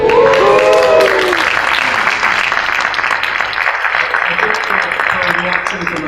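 A conference audience applauds and cheers in a hall at the close of an event, a dense, steady wash of clapping that stays loud throughout, with some voices briefly audible early on.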